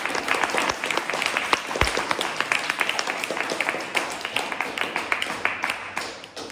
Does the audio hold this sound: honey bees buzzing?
no